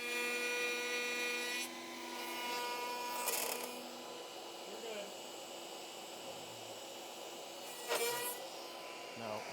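A router cuts through cheap soft wood, taped with painter's tape, for a table: a steady motor whine runs throughout, with two brief, louder rasping bursts as the bit bites into the edge.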